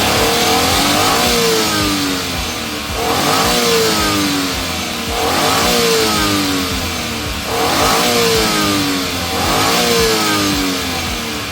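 A Suzuki DA17V minivan engine with a Tiptronic AGS gearbox revs loudly and close in repeated rising surges, each climbing and falling back about every two and a half seconds, with no voices.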